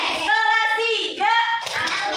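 Third-grade Indonesian schoolchildren chant together and finish with a short flurry of rhythmic group claps for the 'tepuk semangat' classroom spirit clap, close and loud.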